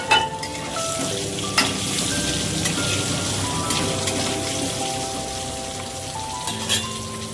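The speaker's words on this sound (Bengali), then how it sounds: "আলুগুলো ভাজা হয়ে গেছে" Potato pieces coated in salt and turmeric frying in oil for mutton kasa, a continuous crackling sizzle with occasional sharp pops and faint tonal kitchen sounds in the background.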